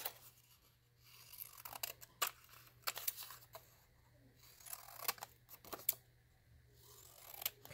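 Scissors cutting decorative paper for a Kate Greenaway junk journal, a series of close, crisp snips in an irregular rhythm in a quiet room.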